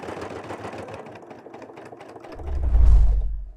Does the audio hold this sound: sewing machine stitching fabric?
yes